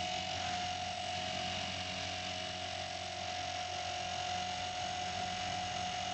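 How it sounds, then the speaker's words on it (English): Walkera V400D02 RC helicopter with a direct-drive brushless tail system powering up, a steady, close, loud mechanical whine and hum with sustained tonal rotor and motor drone throughout. "now this is the totally brushless helicopter system, so let's see how fast it can accelerate up"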